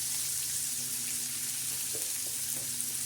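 Bitter gourd and tomato frying on a griddle make a continuous, close sizzle with a bright hiss and a few faint spatters, with no talking.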